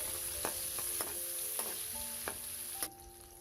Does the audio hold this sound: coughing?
no